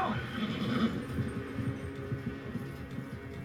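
A horse whinnies near the start in a Game of Thrones scene in a frozen, snowy setting beyond the Wall, then clip-clop hooves and low rumbling score carry on beneath.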